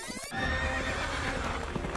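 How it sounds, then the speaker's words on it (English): A horse neighs loudly in a Star Wars parody animation, a long whinny with hoof clip-clop, suddenly starting after a brief quieter moment. "They aren't using speeders, sir. They're using space horses."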